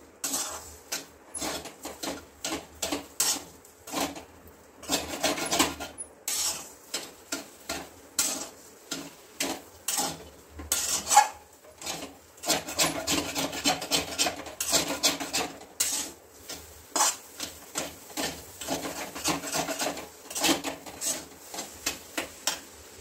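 A spoon scrapes and stirs sugar frying with raw banana in a pan for barfi, a steady rhythmic rasping that keeps going close by for over twenty seconds with no talking.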